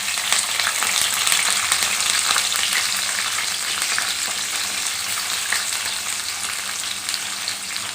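Curry leaves and onion hit hot oil for sambar, giving a loud, dense, crackling sizzle that stays close and steady for several seconds, easing slightly, with no voices.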